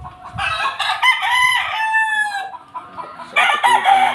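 A Sweater Tornado gamefowl rooster crows close and loud in two long strained calls, with a few clucks in between.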